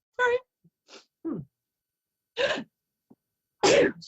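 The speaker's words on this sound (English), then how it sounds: "I'm going to sneeze." A single sharp sneeze from an adult during a psychic reading, loud and close, followed by a few short breathy vocal sounds and sniffs with pauses between them.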